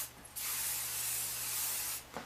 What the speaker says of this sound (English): Now I'm going to spray like you've never sprayed before.